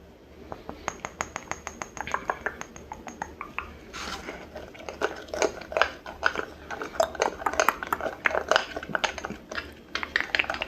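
Small glass seasoning jars with lids being handled and tapped: bright clinks and clicks, first in a steady rhythm, then busier and more scattered, close up.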